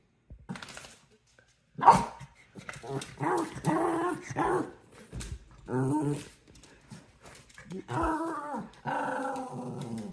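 A dog growls and barks at close range in uneven bursts, with rough snarling runs and a few whimpering, yelping cries between short quiet gaps.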